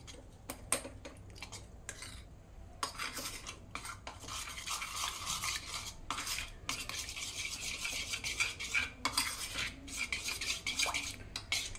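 A spoon clinks and scrapes steadily in a bowl while cornflour and water are mixed into a thin slurry. The taps are quiet, close and irregular, with a few short pauses.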